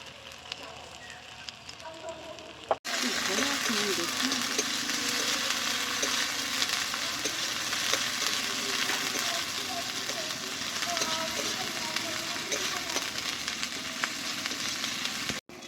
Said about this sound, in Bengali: আদা রসুন পেঁয়াজ টমেটো আমার ভালোভাবে ভাজা হয়ে গেছে।